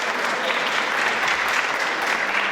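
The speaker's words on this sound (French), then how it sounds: "C'est vous qu'on applaudit." Audience applause at a heritage days event in Aiglun, a dense steady wash of many hands clapping, loud and close, continuing evenly throughout with no pause.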